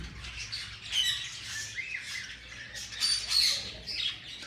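Parrots at a ringneck and rosella exhibition squawk repeatedly, with harsh, overlapping bird calls and chirps filling the space from start to finish, fairly close and loud.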